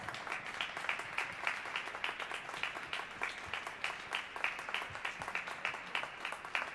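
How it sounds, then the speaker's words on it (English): An audience applauds after a classical trio concert in an atrium, a sustained round of clapping at moderate distance, dense and even from start to finish. "I think we should give the Andromeda Trio one more round of applause."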